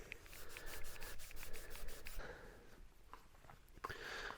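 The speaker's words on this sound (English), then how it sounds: "Apply liberally, rub in with a soft cloth, then polish and buff to a high luster." Soft cloth rubbed over the surface of a Mazda MX-5 during restoration, giving close, rhythmic swishing strokes that are strongest at first, then a quieter stretch and a final burst of rubbing.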